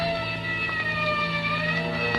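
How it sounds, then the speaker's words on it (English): A distant emergency siren wails steadily with wavering tones throughout, alone with no talk, a sustained faraway alarm. "somewhere in the distance I heard a siren"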